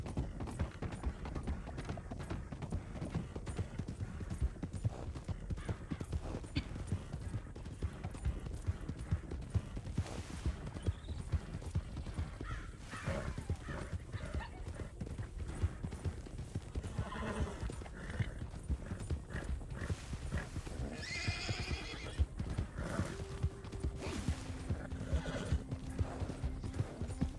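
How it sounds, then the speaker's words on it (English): Horses in the RedM Red Dead roleplay game: steady clip-clop of hooves runs throughout, joined by several whinnies and neighs, with no talking. "Why do I hear horses?"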